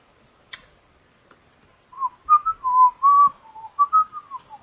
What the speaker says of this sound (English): my casual whistling